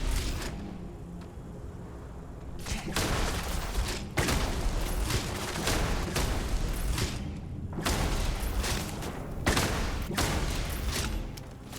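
Starfield gunfire: rapid volleys of loud, close gunshots and thudding bursts in quick succession, with brief pauses between them.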